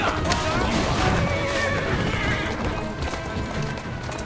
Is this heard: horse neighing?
yes